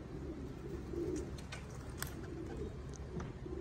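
Racing pigeons cooing softly at a loft during a one-loft-race training fly, low rounded coos repeating under a steady outdoor hum, with faint chirps from other birds.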